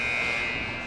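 A loud, steady electronic buzzer sounds at the end of a period in a U14 boys' ice hockey game, holding its tone for about a second before cutting off abruptly.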